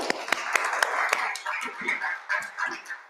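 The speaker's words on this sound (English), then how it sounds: "So let's give them a round of applause." Scattered applause from a small audience at a local food systems gathering, a handful of sharp claps over a murmuring crowd that thins out, with voices chattering underneath.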